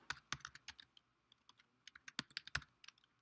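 Close, crisp clatter of a computer keyboard as npm commands are typed, quick bursts of keystrokes separated by short pauses.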